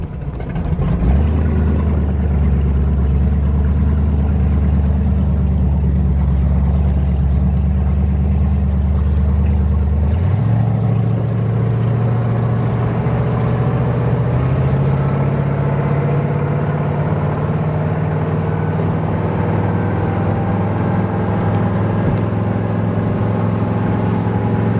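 A race boat's engine drones steadily at around 2,400 RPM, a deep continuous hum that steps up in pitch twice as the throttle changes, loud and close with water and hull rumble beneath.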